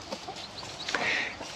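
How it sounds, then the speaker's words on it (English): Faint, high-pitched peeping of baby chicks, a few soft chirps scattered over quiet background noise. "Little baby chickens."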